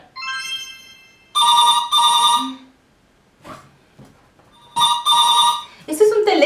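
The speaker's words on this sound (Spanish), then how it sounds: "Este es un teléfono." A telephone rings in two bursts of two trilling rings each, loud and close, with a brief electronic tone before and a voice between them.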